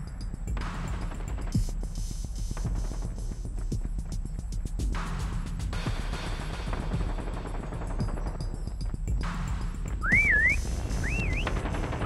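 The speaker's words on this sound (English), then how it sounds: "Next whistle in 10 seconds." In a Call of Duty: Mobile Easter prop hunt raid match, two short rising whistle calls ring out near the end over continuous game gunfire and background noise.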